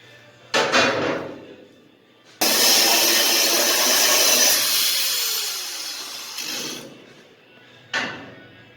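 A power tool cuts through metal leaf spring hanger brackets for a 1953 Ford F100 in one long, harsh grinding burst, with shorter bursts before and after.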